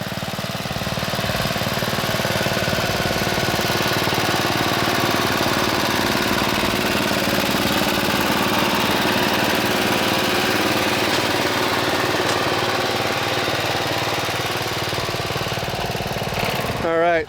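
An old Gibson engine runs steadily close by, a loud, continuous knocking chug with a pulsing beat that holds even throughout.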